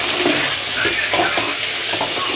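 Steady crackling sizzle of food frying in a pan, close and continuous, with faint stirring scrapes over it.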